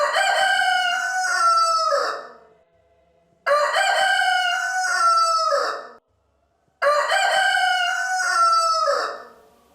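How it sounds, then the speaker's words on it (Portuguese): A rooster crows three times in a row, each long loud cock-a-doodle-doo lasting about two seconds and separated by short silences, close and clear. "E neste momento cantou o galo."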